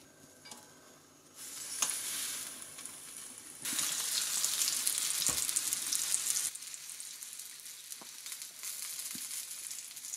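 Food cooking on a Silvercrest SKGE 2000 electric contact grill set to 180 degrees, a hissing sizzle that swells loudly partway through and eases back, with a few light clicks and knocks against the plates.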